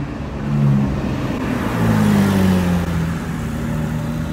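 A silver Porsche Carrera GT engine rumbles and revs nearby in Monaco, a deep throaty tone rising and easing as it moves past, with no voices.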